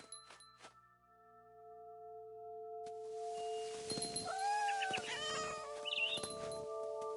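A cat in What Remains of Edith Finch lets out a drawn-out, wavering meow midway, close and clear, among faint chimes, tinkles and a quiet ambient hum.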